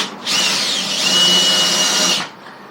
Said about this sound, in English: Just a Countersink. Countersink bit.